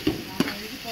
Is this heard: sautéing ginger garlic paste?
yes